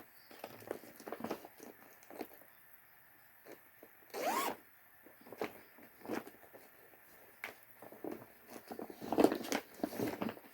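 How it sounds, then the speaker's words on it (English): A zipper being undone on a cross-stitch project bag or pouch, in several short rasping pulls with one long, loud unzip in the middle and another strong pull near the end, close to the microphone in a quiet room. "I will unzip, but then I won't zip back up."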